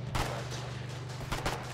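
Gunfire in the war game Foxhole, a few sharp reports standing out over a steady low hum and dense background noise, with no talk.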